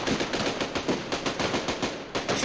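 Rapid, evenly spaced bursts of retro machine-gun fire aimed at Santa in the ZX Spectrum game Santa's Dilemma, loud, harsh and steady throughout, with no voices.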